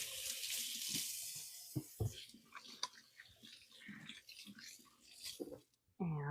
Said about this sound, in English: Give my hands a quick rinse now.